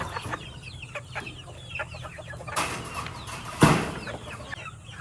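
Purebred White Kelso chickens cluck in short, scattered bursts from several birds close by, with a couple of louder rustling flurries partway through and no talking.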